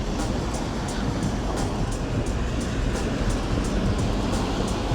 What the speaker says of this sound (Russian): Здесь уже поток воды более мощный.